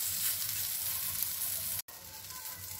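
Okra cooks on a tawa with a steady close sizzle and crackle, briefly cutting out for an instant before the hiss resumes.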